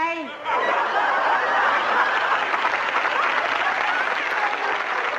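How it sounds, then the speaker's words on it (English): Steady applause from several people in a radio studio, starting right after a short voice and holding at an even, fairly loud level for about five seconds, with some chuckling mixed in. "Who's clapping?"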